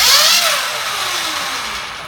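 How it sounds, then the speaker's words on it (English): An electric dirt bike motor runs at wide open throttle in its low MX mode, a steady loud high-pitched whine with a rising tone, sustained and close for the whole stretch with no talk. "I'm going to go wide open throttle."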